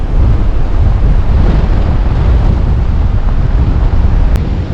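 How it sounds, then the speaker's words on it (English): Strong wind buffets the microphone in a constant roar on the Oregon coast, mixed with the wash of ocean surf breaking nearby. "It's really extremely windy today."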